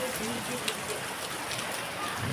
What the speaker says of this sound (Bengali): বৃষ্টি পড়ছে এখন